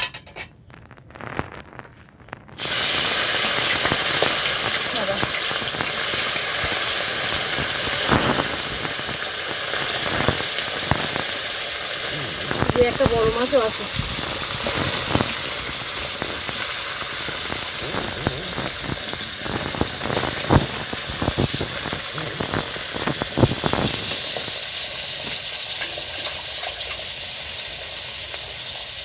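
Fish rubbed with salt and turmeric fry in hot oil in a kadai wok, giving a steady, close hiss and sizzle that runs throughout, with brief spoken words partway through.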